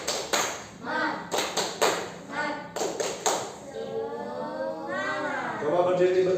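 A classroom of students performs the tepuk semangat clapping chant, with sharp rhythmic claps in quick groups alternating with children's chanting voices, close and lively.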